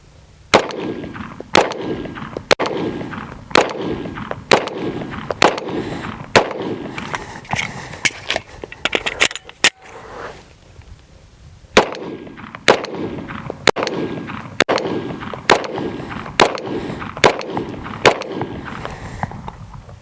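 Handgun shots ring out in quick groups of three during a skill drill, sharp loud cracks with echoing tails, a brief pause midway before the strings resume.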